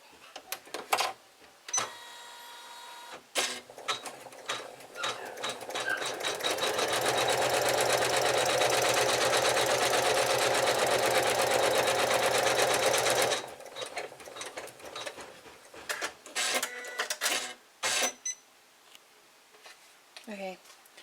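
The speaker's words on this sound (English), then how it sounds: "let's go ahead and stitch out our placement stitch" Embroidery sewing machine stitching a placement outline on felt, a fast rapid-fire mechanical chatter running for about six seconds in the middle, with scattered clicks and handling noises before and after.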